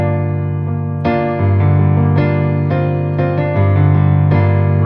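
Piano notes ring out one after another, each struck separately and left sustaining, building slow arpeggiated chords with no talking.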